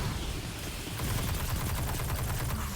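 An auto rifle in Destiny 2 fires a rapid sustained burst, its rattling shots starting about a second in and running steadily to the end over background game noise.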